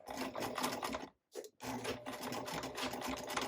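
A sewing machine set to a 2.5 stitch length runs steadily while back stitching a classic tote bag, a dense mechanical whir that stops briefly in the middle before resuming at the same pace.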